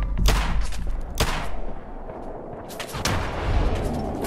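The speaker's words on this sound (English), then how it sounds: "Let's go for a couple of shots on this one." Gunfire in the video game Fallout 4: several sharp, loud shots ring out in a quick cluster, then a pause before a final burst of closely spaced shots.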